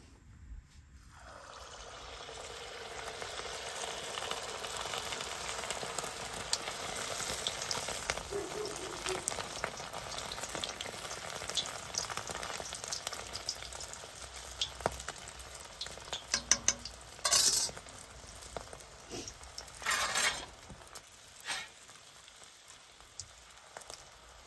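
Sel roti batter fries in hot oil, a steady bubbling sizzle that swells as the ring of dough goes in, with a few clinks and stirring sounds later and no talk.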